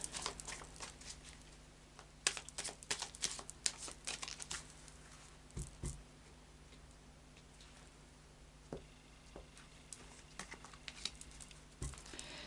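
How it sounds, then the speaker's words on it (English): Tarot of Dreams cards being shuffled by hand, a run of soft crisp card flicks and riffles close up, bunching in bursts with short pauses, no talking. "do a final shuffle of the Tarot of Dreams"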